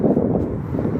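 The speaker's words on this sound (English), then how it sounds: "And it's windy out" Wind buffets a microphone outdoors on a windy day, producing a loud, continuous low rumble that fills the whole moment without any talking.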